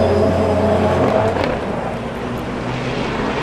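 Rallycross race car engine at Faleyras in 2022, a loud steady roar with low harmonic drone, easing slightly partway through as the car holds a continuous engine note without talk.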